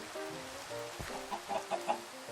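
A chicken in the Minecraft video game gives several short, clipped clucks in quick succession. Game rain patters steadily underneath.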